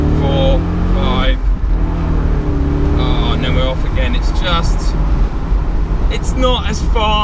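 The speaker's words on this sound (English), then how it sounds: "we've got to do one more acceleration. We'll do second gear." BMW Z8 sports car engine pulling hard in second gear from about 2,000 to 4,000 rpm, a loud steady roar that rises in pitch, with someone talking over it throughout.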